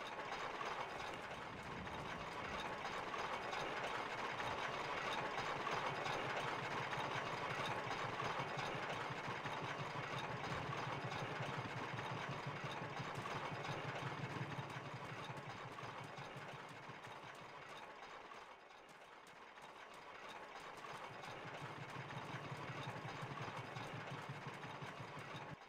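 A large machinery wheel rolls inside an ancient mechanism in the Indiana Jones and the Infernal Machine video game, a steady loud rumbling grind that continues throughout and dips briefly near the end.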